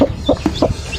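A mother hen with newly hatched Rhode Island Red chicks clucks angrily in close, sharp bursts, about four loud clucks in one second with faint background noise.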